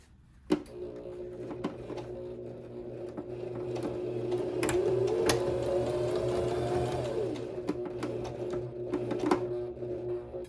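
A sewing machine stitches a seam on a misses' jacket, starting with a sharp click, then running in a steady whirring drone that rises and eases, with a few clacks near the end.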